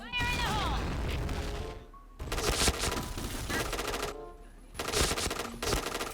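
Shotgun blasts and rapid gunfire from the first-person shooter Point Blank come in loud, dense bursts separated by short gaps, with voices talking over parts of the action.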